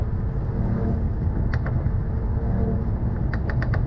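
A 2021 Mercedes-AMG CLS 53 4MATIC in race mode gives a steady, loud low engine and exhaust drone from inside the car, with a few brief higher clicks or pops toward the end and no talking.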